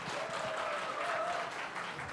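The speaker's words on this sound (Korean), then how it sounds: "큰 박수 맞아 주세요." Applause from a church congregation at a thanksgiving service, a dense, steady wash of many hands clapping at moderate volume that carries on for the whole stretch.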